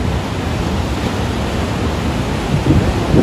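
Steady roaring surf of large ocean waves on the coast at Baler, Aurora, a dense broadband wash with a slight surge near the end, mixed with some wind rumble.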